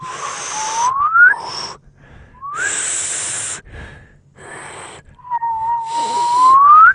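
Airy, breathy attempts at a whistle made by drawing air inward, with a few thin wavering tones rising in pitch between pauses, close and fairly soft.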